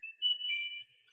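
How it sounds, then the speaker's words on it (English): A mobile phone ringtone chirps briefly: a thin, warbling electronic tone rising and holding for under a second, faint and alone in a quiet room. "And that was my phone."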